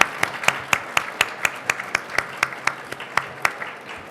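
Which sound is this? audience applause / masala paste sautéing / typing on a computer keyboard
audience applause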